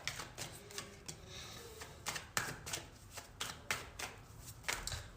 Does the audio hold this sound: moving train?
no